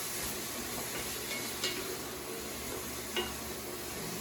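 Vegetables sizzling in a pan with a steady broadband hiss while being stirred, two soft scrape and clink accents from the utensil against the pan, no voices.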